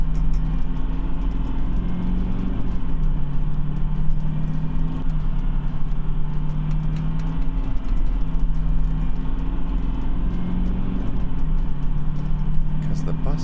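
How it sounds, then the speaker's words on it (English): Bus accelerating in a looped soundscape, a steady low engine rumble with a repeating rise in pitch every few seconds, loud and continuous with no talk. "the bus accelerating sounds like a 5-second loop"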